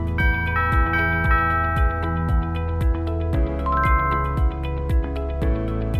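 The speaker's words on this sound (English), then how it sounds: "meaning you will know who is ringing your doorbell." A Wisenet SmartCam D1 video doorbell plays a ringing chime, a bright repeating sequence of bell-like tones with a steady rhythmic pulse, clear and up close, with no voices.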